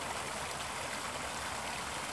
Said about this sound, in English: And just focus on that water,